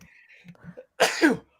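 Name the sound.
sneeze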